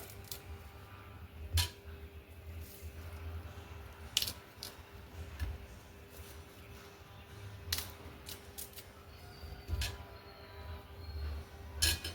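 A knife slicing through a fresh pineapple on an organic farm, giving scattered crisp cuts and short crunching strokes at close range, with quiet pauses between them and a low steady hum underneath.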